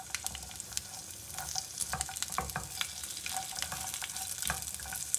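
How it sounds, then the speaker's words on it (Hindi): Cashews and almonds roast together in a little oil, giving a steady close sizzle and frying crackle with scattered stirring clicks throughout. "काजू और बादाम इनको इकट्ठा रोस्ट करेंगे"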